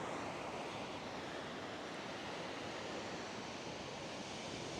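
Steady, continuous wash of surf breaking on a beach, broad and even throughout with a light touch of wind noise, no voices.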